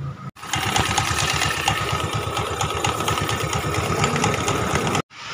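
A Yamaha Mio i 125 scooter engine runs after a throttle position sensor replacement, a close, steady idle with a rapid even putter lasting about five seconds between brief silences.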